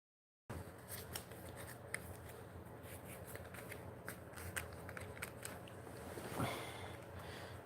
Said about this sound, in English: Might as well shuffle them here.